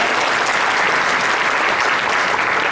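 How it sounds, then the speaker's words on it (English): A room of guests at a winter celebration gives a round of applause. The dense clapping stays loud and even from start to finish, with no voices over it. "Let's give them a round of applause."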